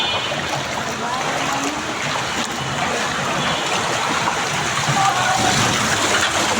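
Rain-flooded city street with people wading across, a steady loud rush and slosh of water filling the whole stretch with no clear individual steps.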